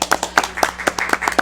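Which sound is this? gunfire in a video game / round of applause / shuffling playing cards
round of applause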